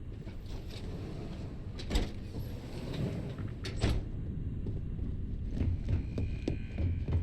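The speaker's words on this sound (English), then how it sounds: "Closing the shutters." Metal shutters slide closed in the video game Starfield, a steady mechanical rumble with a few clunks over constant background ambience, moderately loud throughout.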